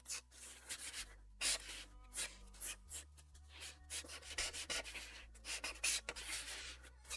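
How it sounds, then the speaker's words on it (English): Nearly dry marker pen scratching and rubbing across paper in quick uneven strokes, soft and close, with irregular bursts and pauses and a low steady hum underneath. "you can hear that the marker is slowly coughing up its last little thing"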